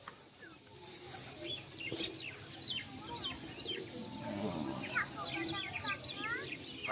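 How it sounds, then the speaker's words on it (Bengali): A flock of pigeons coos and chirps close by in a loft, a continuous mix of warbling calls and soft cooing, with someone speaking over them at times. "কতগুলো পায়রা দেখুন ভাই।"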